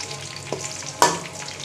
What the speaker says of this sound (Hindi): अभी हम प्याज डालेंगे और इसको अच्छे से ब्राउन करेंगे।